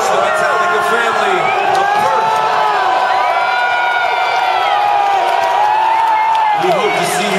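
A concert crowd at Burswood in Perth cheering and whooping, a large distant roar of many voices with scattered shouts and whistles, sustained throughout.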